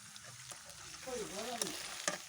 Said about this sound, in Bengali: এখন আমি আদা রসুনটা একটু ভাজে নিলাম